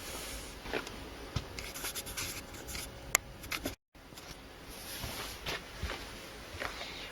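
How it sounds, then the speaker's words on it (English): A glue test result is written down by hand, a pen scratching quietly and close on paper in short irregular strokes, with a brief silent break midway and no talking. "I'll weigh that lot and write the result down"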